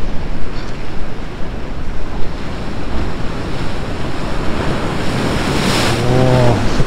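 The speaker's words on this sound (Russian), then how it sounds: "Вон, смотрите, уже волна идет одна." Loud Black Sea surf at Foros, Crimea, crashes and roars continuously against the shore, with wind buffeting the microphone and a brief low tone near the end.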